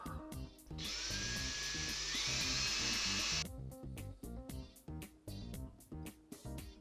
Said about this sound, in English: I'm using a 6mm drill at first just to take that edge off